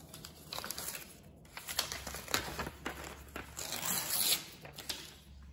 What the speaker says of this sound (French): on va déchirer le papier déjà